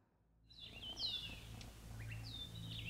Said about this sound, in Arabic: مفيش صوت غير غنى العصافير في الشجر